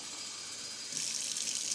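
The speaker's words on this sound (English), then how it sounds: "This is the faucet. I'm putting water." Tap water running from a faucet into a cup at a kitchen sink: a faint, steady hiss of flowing water that grows brighter and fuller about halfway through as the cup fills.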